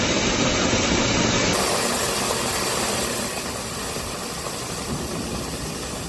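Amateur rocket engine Agnidhara S burning on a launch pad with almost no thrust, a loud, steady roaring hiss that drops slightly in level partway through and continues alone.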